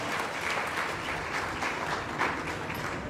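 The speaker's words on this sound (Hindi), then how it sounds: "क्या बात है, जोरदार तालियां।" Steady, dense applause from a large audience at a career opportunity meeting in Raipur, holding at an even level throughout with no talk over it.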